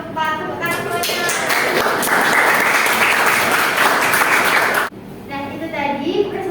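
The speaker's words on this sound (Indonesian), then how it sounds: "tepuk tangan semuanya" Students applaud a correct answer in a school history lesson, a dense burst of clapping that fills the room for about five seconds before cutting off abruptly, with faint chatter and a few scattered claps trailing after.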